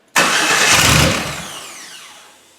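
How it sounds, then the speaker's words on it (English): A 1972 Chevy Corvette engine bursts into life with a loud roar, then settles and fades over a couple of seconds; no separate electric fuel pump whine stands out. "So you'll hear the electric fuel pump, and then I'll just start it up"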